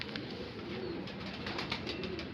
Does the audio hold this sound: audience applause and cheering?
no